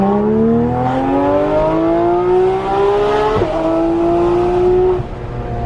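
Porsche 911 GT3 RS accelerating on the road, its engine note climbing steadily through the revs, a brief shift, then rising again, loud and continuous from inside the car.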